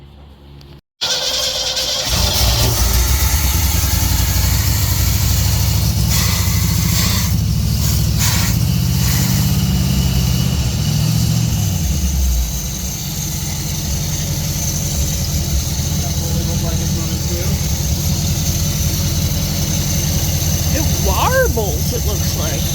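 A 1964 Chevrolet Suburban with an oil leak turns over and starts, then settles into a loud, steady, rumbling idle. The engine sounds close and continuous, and voices talk over it at times.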